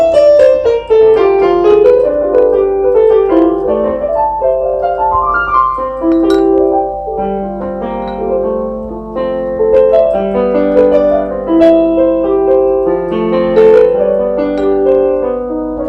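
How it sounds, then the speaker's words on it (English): Grand piano voice on an electronic musical keyboard playing a continuous melodic passage with chords, steady and close, with no talking. "So grand piano is giving you the sound of a piano."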